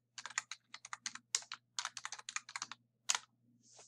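Fingers type on a computer keyboard in a classroom, a quick run of close, crisp keystrokes in irregular bursts with short pauses, heard alone without talk.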